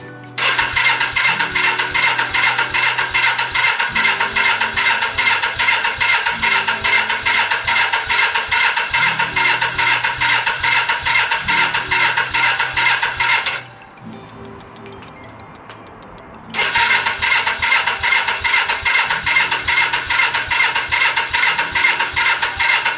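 A Suzuki GS500 motorcycle engine cranks over on a weakening battery, with a loud, steady, rapid churning starter rhythm that stops for about three seconds and then resumes at the same pace.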